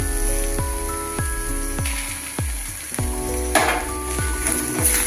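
Beaten egg poured over carrots frying in a pan for a carrot egg poriyal, giving a steady sizzle under a run of regular, ringing metallic taps and scrapes, with no voices.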